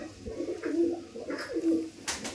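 A Rampuri pigeon, a famous Indian breed, coos close by in two soft, rolling phrases, followed by a brief rustle.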